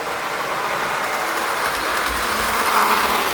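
A gold B&O Chessie System model train engine runs on its track up a grade, giving a continuous close whirring rumble with a light clickety-clack of wheels and no voices.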